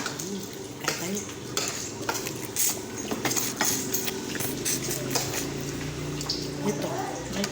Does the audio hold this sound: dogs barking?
no